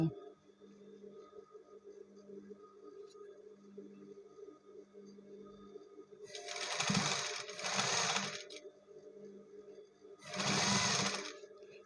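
A sewing machine stitching elastic into a trouser waistband during a clothing repair, running in three short, loud bursts with quiet pauses between, close by and without talk.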